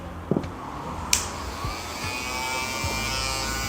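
Wahl Vapor electric hair clippers running with a steady close buzzing whir that builds after a few small clicks at the start and holds evenly through the rest, with no talking.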